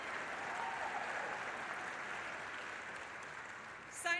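Audience at the Detroit auto show applauds and cheers steadily in a large hall, a continuous wash of clapping heard from some distance with no voice above it.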